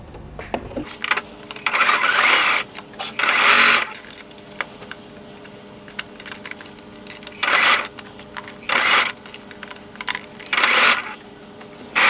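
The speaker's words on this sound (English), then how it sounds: "you're going to stitch from one side all the way down to the other side" A sewing machine stitching a raglan seam on a garment runs in several bursts of rapid mechanical whirring, with short quiet pauses between runs.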